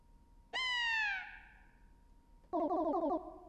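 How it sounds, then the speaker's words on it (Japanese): A cat meows in the video game Goodbye World, first one long, clear, descending meow, then after a pause a shorter, warbling meow, close and isolated against a quiet background. "そうだ、猫だ。"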